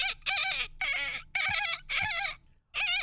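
A person imitates a rooster crowing with five strained, high, wavering vocal bursts separated by short pauses, loud and close.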